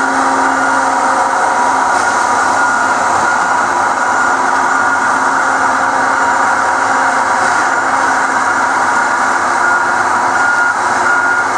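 Tigercat LX830D feller buncher harvesting trees gives a steady, loud machine drone with a constant high whine and a faint intermittent beeping, unbroken and close for the whole stretch.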